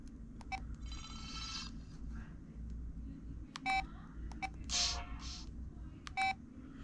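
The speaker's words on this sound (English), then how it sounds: "Oh, these are the text tones." Text message alert tones from an LG VM101 phone, a series of short electronic beeps and chimes played one after another, clear and close, with brief pauses between them over a low background hum.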